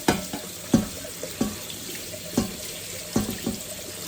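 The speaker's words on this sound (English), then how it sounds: "put it under the tap and let the water run over it" Water runs steadily from a tap into a sink, close up, with splashing pulses as sea moss is moved under the flow.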